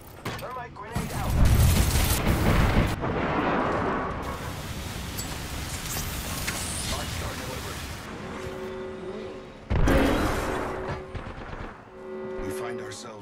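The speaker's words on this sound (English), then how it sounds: "Thermite grenade out." Thermite grenade going off in Apex Legends, a loud burst of fiery crackling and hiss with a second blast later, amid in-game noise and a voice talking over it.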